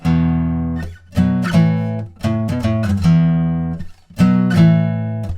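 Distorted electric guitar power chords from a song chorus, played alone as a series of loud sustained chords with brief gaps and sharper stabs in between.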